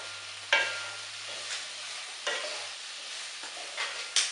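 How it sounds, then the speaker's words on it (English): Sofrito goes into a pot of seasoned oxtail, giving a soft sizzle with a few sharp stirring scrapes and clinks against the pot, close and fairly quiet, with no voices. "now we're adding the sofritos"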